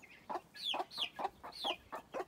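A month-old chick squeaks behind a hen, giving a rapid run of about six thin, rising peeps, close and clear against a quiet farmyard.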